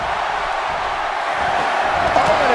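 Steady roar of an arena crowd in WWE 2K18 during a Royal Rumble match, loud and continuous with voices swelling slightly near the end; no clear counting is distinguishable.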